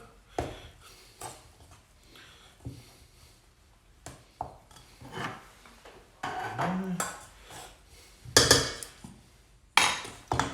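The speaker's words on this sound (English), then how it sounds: "So mince goes in, and then just with a spoon, you're just going to mix it all together, like so." A spoon works minced meat around in a pan with irregular clinks, scrapes and dull knocks, close by, in bursts that grow louder and busier toward the end.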